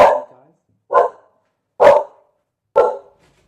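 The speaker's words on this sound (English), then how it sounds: "Oh, my dog." A dog barks four times, loud and close, each bark a short separate burst spaced about a second apart, with nothing else heard between them.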